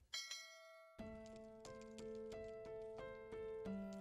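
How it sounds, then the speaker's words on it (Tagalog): A notification bell sound effect rings out with a bright opening chime, then a run of repeated clear bell tones at a steady, fairly quick rhythm, alone and fairly quiet. "Turn on your notification bell"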